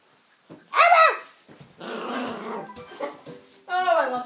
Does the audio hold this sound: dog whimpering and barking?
yes